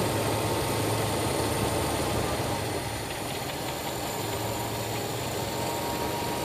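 Carbureted engine of a Toyota Kijang idling with a steady, even mechanical hum and a faint vibrating rattle, continuous and fairly close throughout.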